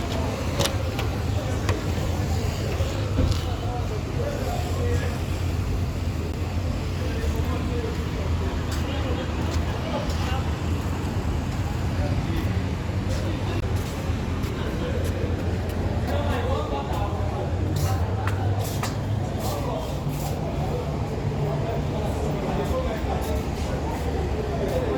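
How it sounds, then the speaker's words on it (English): Steady low road rumble from inside a car with Mazi at the wheel, a continuous engine and tyre hum running throughout while people talk over it. "Mazi is driving."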